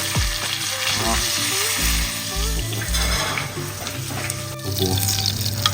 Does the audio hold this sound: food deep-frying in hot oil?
yes